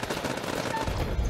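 Rapid gunfire in the video game House of Ashes rattles off in a short, dense burst with a heavy low thump near the end, loud and close.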